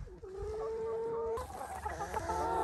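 Several chickens cluck and murmur nearby, with a drawn-out squawk early on and overlapping soft clucks continuing steadily through the rest.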